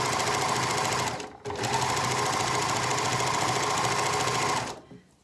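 A sewing machine stitches a 3 cm hem on a garment, running steadily and close with one brief stop before carrying on, then stopping at the end.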